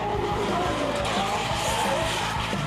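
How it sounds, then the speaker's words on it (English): A drift car at a D1SL street-league round at Ebisu in Japan roars loudly throughout, with dense engine noise and tire skid under an announcer's talk; no distinct crash impact stands out. "But he crashes out in splendid form."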